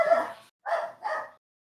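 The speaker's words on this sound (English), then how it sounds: "Dog agrees." A dog gives three quick barks in a row, close and fairly loud, with short gaps between them and no one talking over them.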